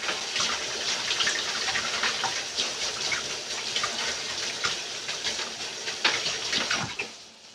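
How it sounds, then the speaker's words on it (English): Running tap water flows steadily into a sink as hands are washed in a kitchen while cooking filet mignon, a continuous close splashing gush that stops near the end. "Wash your hands."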